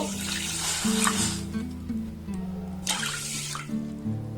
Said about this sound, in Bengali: এখানে আমি দেড় বাটি জল দেব